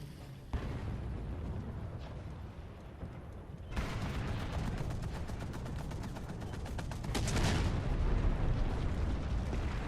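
Tank cannon and machine-gun fire in War Thunder, with a booming shot followed by rapid rattling bursts over a rumbling engine and battle din, loud and close.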